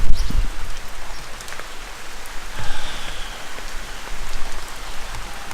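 Rain falls steadily outside a garage, a dense hiss of drops on surfaces with slight swells in intensity and a few close patters, moderately loud and continuous.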